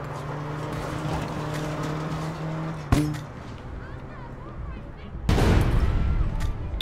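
A gunshot in the APB Reloaded video game: one sharp crack partway through, then a louder, sustained blast of noise near the end, over steady game ambience and engine-like hum, with talk throughout.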